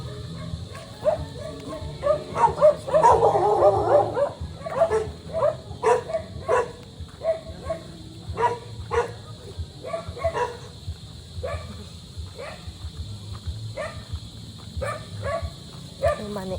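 A dog barks repeatedly in short, irregular bursts amid a busy background, sometimes close and fairly loud, at other times softer and more scattered across the clip.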